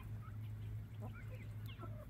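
Hens and the main rooster, a red bird called Big Red, cluck softly in a DIY bear-proof chicken coop, scattered faint calls over a steady low hum.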